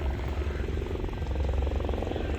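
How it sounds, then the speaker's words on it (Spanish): Helicopters flying overhead toward a wildfire burning on pasture land, a steady low rotor thrum holding throughout, moderately distant with no talk over it. "Están yendo los helicópteros allí porque se ha prendido el fuego allí."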